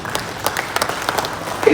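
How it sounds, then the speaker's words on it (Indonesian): Brief scattered clapping from an audience at a press association officials' inauguration ceremony, a short burst with voices mixed in. "Tepuk tangan itu."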